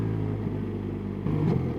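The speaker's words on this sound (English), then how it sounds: "I'm personally not the biggest fan of the Boxer engine." A BMW naked motorcycle with a boxer engine idles and runs at a steady, fairly quiet rumble, with a brief rise in revs near the end.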